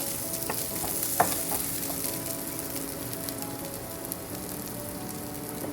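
Plantain and squash pieces sizzle steadily in a hot pan while being pushed and stirred around, with a few sharp clinks of the utensil against the pan over the continuous frying hiss.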